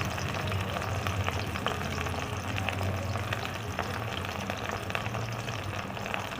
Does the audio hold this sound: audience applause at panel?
no